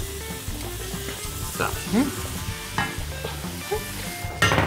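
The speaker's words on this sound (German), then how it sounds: "Also erstens können wir die Linsen wirklich so anbraten wie praktisch Hackfleisch. Das darfst du richtig reinbrutzeln." Lentils frying in a pan with carrots and onions for a vegan lentil bolognese, sizzling steadily and loudly throughout with stirring scrapes and clatter, and a brief spoken word.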